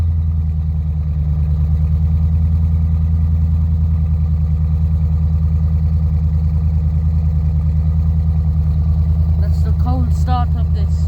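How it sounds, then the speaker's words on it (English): A big V8 in an Audi S5 coupe rumbles steadily through its quad exhausts, a deep, even idle that stays loud and unbroken throughout, with a brief scatter of higher clatter near the end. "Start of this S5, lovely V8 rumble from the quad exhausts."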